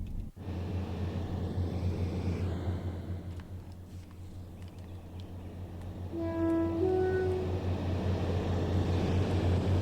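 A Class 153 diesel railcar passes by on a Cardiff-area route in Train Sim World, its low engine rumble swelling louder in the second half with sustained tonal notes as it nears.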